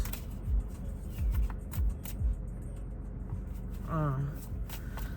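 Tarot cards are shuffled in several quick, crisp riffles close to the microphone, and a person speaks briefly near the end.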